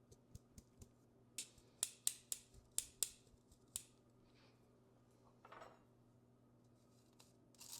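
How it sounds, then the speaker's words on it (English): Flour, ground ginger, salt and baking soda are sifted in a quiet kitchen, a run of crisp, rapid rhythmic clicks and taps from a hand sifter, loud at first and then trailing off into a soft rustle. "Now I'm going to sift this twice."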